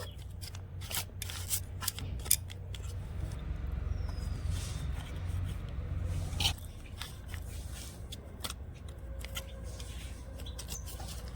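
Bread dough cut into portions on a kitchen surface, a string of soft, quick snipping and tapping clicks scattered irregularly throughout, close and quiet, with no talking.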